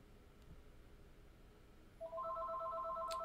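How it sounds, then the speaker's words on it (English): A telephone starts ringing partway through, a steady electronic ring tone that stays loud and close over a low background hum, with no one speaking. "And we got a phone call."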